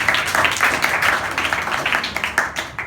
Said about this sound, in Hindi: इसके लिए ताली बजाते हैं।